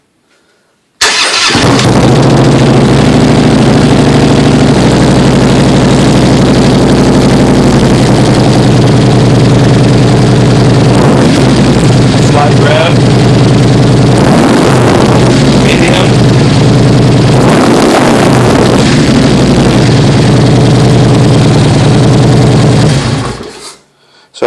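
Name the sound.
Honda CRF motorcycle engine idling with aftermarket exhaust headers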